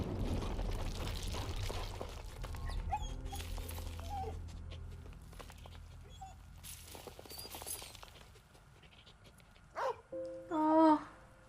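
A dog barks and whimpers in the wartime video game Valiant Hearts: a busy game soundscape plays first, then near the end come a few short, high, whining yelps, close and fairly loud, with no talking.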